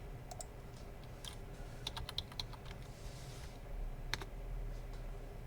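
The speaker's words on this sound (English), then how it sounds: "You can type whatever you want to type." Scattered keystrokes on a computer keyboard, quiet short bursts of clicky taps over a low steady room hum, with no voices.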